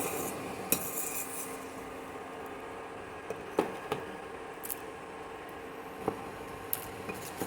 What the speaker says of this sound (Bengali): ভালোভাবে মিশিয়ে নেব জিরে গুঁড়ো আর হলুদ গুঁড়োটাকে